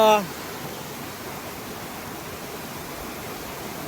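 A waterfall on Koh Adang heard from a rock above it, a steady, broadband rushing hiss that stays even and unbroken after a brief louder moment at the start.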